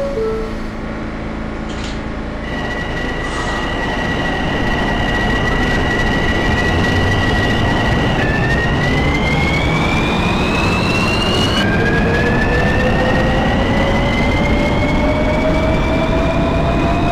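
A subway train in the OpenBVE train simulator game, an R153 on the H local line, runs with a loud, steady rumble and rising electric motor whine that climbs and steps up in pitch as it accelerates.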